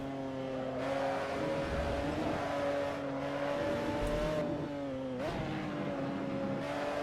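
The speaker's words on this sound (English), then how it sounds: "So much power at the back, about 600 plus horsepower from that mid-mounted BMW engine" Mid-mounted BMW engine of an F1 GTR race car in Assetto Corsa, a steady loud drone with rising and falling revs, a sharp shift or lift near the end, running alone without talk.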